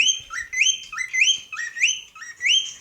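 A black bird chirps in a rapid repeating pattern of bright rising whistles, close and clear, about six phrases in quick succession.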